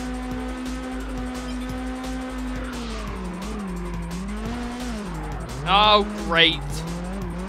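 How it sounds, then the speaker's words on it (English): A car spins out in the Test Drive Unlimited racing game on PS2, its steady engine drone dipping before two sharp, loud tire squeals near the end, with a voice speaking briefly over it. "Spun our car out again."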